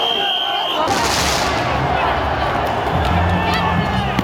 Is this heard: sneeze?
no